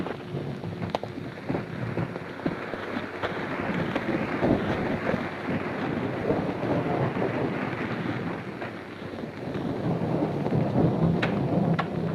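A thunderstorm with rumbling thunder and steady rain, a loud, continuous wash of rain and wind noise with distant rolling thunder, no voices.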